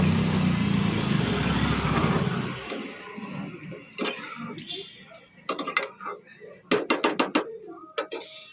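Egg curry with a pinch of garam masala is stirred in a pan, with a dense sizzling bubble at first fading to quieter scraping and a run of sharp metallic spoon knocks against the pan toward the end.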